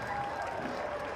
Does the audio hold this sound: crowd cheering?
yes